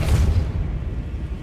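A Depulso force spell cast in the Hogwarts Legacy game lands as a loud, deep boom that trails off into a low rumble.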